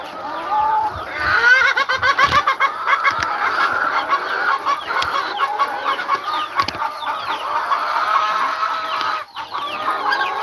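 A flock of farm chickens clucks and squawks constantly, with overlapping calls at close range and a rooster's crow mixed in, loud and busy at feeding time in the morning.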